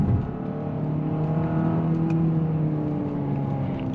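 A 2024 Hyundai Santa Fe's turbocharged engine pulls hard after a downshift to second gear, a steady droning rise of engine tone held loud and close for several seconds with no talk.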